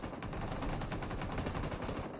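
Sustained rapid automatic M249 machine gun fire in PUBG Mobile, a dense, loud, unbroken stream of shots.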